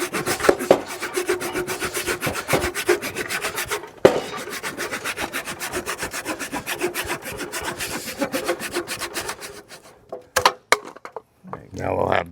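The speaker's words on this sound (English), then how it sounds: "I'm just gonna hand saw it." Rhythmic hand sawing through timber for timber frame joinery, quick back-and-forth strokes close by, pausing briefly midway, then slowing to a few final strokes and a clatter.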